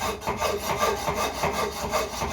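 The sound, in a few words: hand file for aluminium filing a cylinder head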